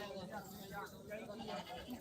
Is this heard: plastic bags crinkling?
no